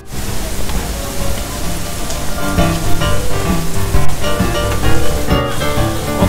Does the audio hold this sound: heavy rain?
yes